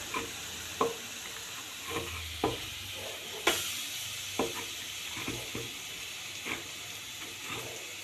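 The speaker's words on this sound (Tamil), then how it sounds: "லைட்டாக ஃப்ரை பண்ணிக்கலாம்" Mushrooms lightly frying in a pan, a soft steady sizzle with occasional spatula taps and scrapes at irregular intervals, close and quiet.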